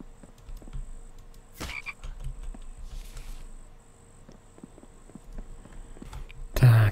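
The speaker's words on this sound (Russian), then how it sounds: "Лягушка." A frog croaks in the video game The Infected, low croaks set against a steady night ambience of insects and crickets, with a few thuds.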